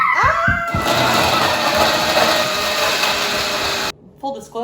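A kitchen blender whirring through a smoothie, loud and continuous for several seconds before cutting off, with voices briefly at the start and end.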